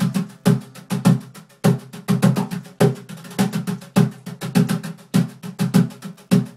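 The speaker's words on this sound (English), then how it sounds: "so I call this the bucket drum, appropriately named, and this is what it sounds like." A homemade bucket drum played by hand, giving a steady run of sharp, close percussive hits with a deep thump on each beat, alone with no talking.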